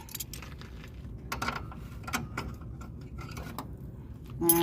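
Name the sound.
metal wrenches being handled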